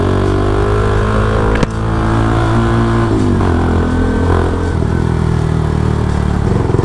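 A Rouser NS160 Fi motorcycle engine drones loud and steady while engine braking downhill, its pitch easing lower and wavering as it slows, with a single sharp knock early on.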